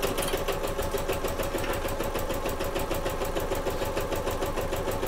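A sewing machine stitching a bag seam runs in a rapid, even mechanical chatter that holds steady and close throughout, with no voices.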